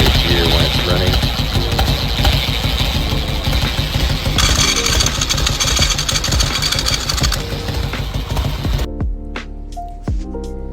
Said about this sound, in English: You can kind of hear it here, the clicking.